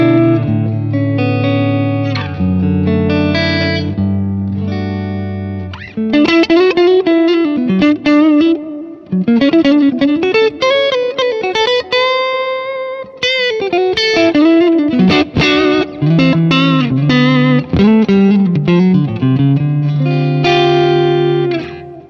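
Clean electric guitar through AC30 and DC30 amp models, playing chords and melodic runs with a shimmering amp tone and light reverb, steady and fairly loud throughout with no talking.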